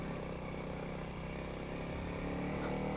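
Honda CRF300L dual-sport motorcycle ridden off-road on a mountain trail, a steady close engine drone with dense low rumble and continuous broadband wind and road noise throughout, no voices.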